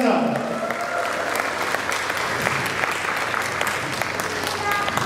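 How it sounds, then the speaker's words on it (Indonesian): An audience at a fan gathering and birthday celebration for Dato' Sri Siti Nurhaliza breaks into steady applause, with some crowd murmur and a voice over the clapping near the start. "Tepuk tangan untuk Dato' Sri Siti Nurhaliza."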